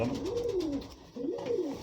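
A pigeon coos twice in soft, rolling phrases, close by, with a faint hiss of background noise and no talking.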